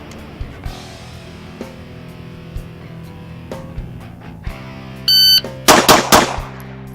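Handgun shots from an HK pistol in a head-to-head with a Glock ring out as a rapid string of sharp, loud reports near the end, after scattered quieter clicks and handling knocks, with a brief electronic beep just before.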